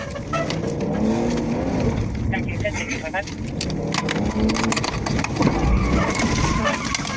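A police cruiser makes a pursuit maneuver on a fleeing car along a highway, with loud engine roar, road rumble and a brief tire squeal, while radio chatter and voices run underneath.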